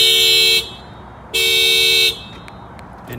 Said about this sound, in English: if somebody tries to bust out the keyhole, the alarm will fire off